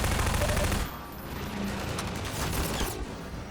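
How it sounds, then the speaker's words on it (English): Gunfire in the video game Half-Life 2, a loud dense burst of rapid shots up front that drops to a rougher, scattered stretch of continued firing and impacts, with no voices. "Shoot this guy."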